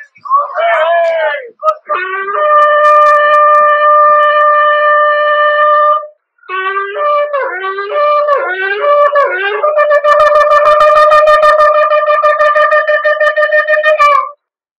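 Shofar blasts from the 1967 recording at the Western Wall in Jerusalem, after the Old City's capture: loud, raw, horn-like tones with sliding starts and long sustained notes, interrupted by short broken calls.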